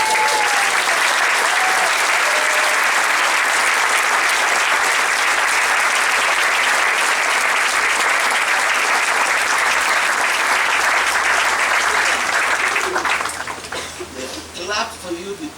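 Sustained applause from a graduation ceremony crowd, dense, loud and steady for about thirteen seconds before tapering off as individual claps fade at the end.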